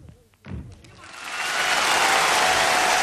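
After a few sharp thuds and a brief voice, applause from a theater audience at an errenzhuan acrobatic stunt swells quickly into loud, sustained clapping that fills the rest of the moment.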